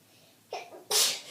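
A single sharp sneeze, with a short intake of breath just before the explosive burst, heard up close.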